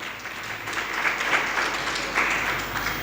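Audience clapping at a Jain religious sermon, a short burst of steady applause from a seated crowd, fairly close and even in loudness.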